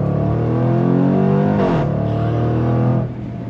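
A 2024 Jaguar F-Pace SVR engine roars loudly from inside the performance SUV while driving, holding a strong rev, rising through a brief shift near the middle and dropping off just before the end.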